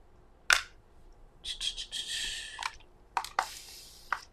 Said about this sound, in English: I need to spray my palette.